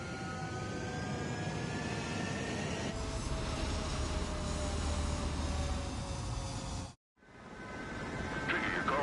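Video game fighter jets roaring on a runway for takeoff, a loud sustained engine rumble and whine with rising tones, briefly cut out near the end before resuming.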